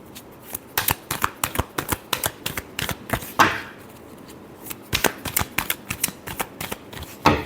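A deck of tarot cards is riffled and shuffled close by in quick repeated bursts of crisp flicking snaps, with a brief pause in the middle before the rapid shuffling resumes.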